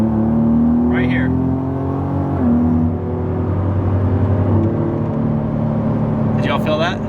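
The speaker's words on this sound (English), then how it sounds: "We're going to see if we can catch the hard shifting points." A Ford Raptor drives along, its engine droning steadily from inside the cab, with a noticeable gear change partway through and brief bits of voice near the start and end.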